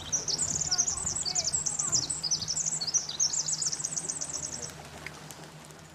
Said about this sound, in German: Wenn wir den Klang der Erde hören, fällt auf, dass er ganz ähnlich wie das Zwitschern von Vögeln klingt.